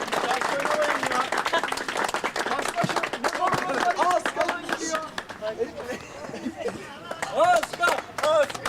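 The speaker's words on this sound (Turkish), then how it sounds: "Alkış alkış." Crowd applause and clapping at an amateur company tournament football match between two construction firms, steady and close throughout, with shouting voices mixed in over the clapping.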